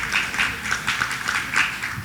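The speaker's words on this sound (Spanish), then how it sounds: "Dale un aplauso al Señor." A church congregation claps in a quick, rhythmic pattern, a brief burst of applause that fills the room.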